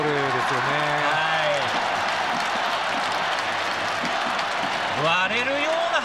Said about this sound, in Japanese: 割れるような拍手。